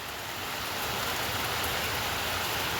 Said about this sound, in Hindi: क्योंकि भाई कंटिन्यूअसली बारिश हो जा रही है।